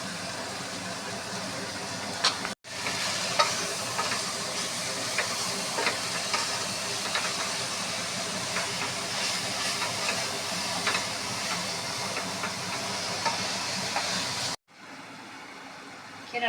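Spinach cooks with tomatoes in a pan as a steady, hissing sizzle that runs for more than ten seconds with small crackles and clicks, breaking off abruptly at the end.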